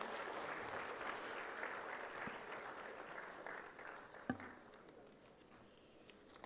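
Applause from a conference audience, a faint, steady patter of many hands clapping that holds throughout and thins slightly toward the end.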